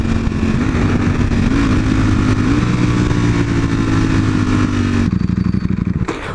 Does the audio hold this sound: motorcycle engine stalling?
yes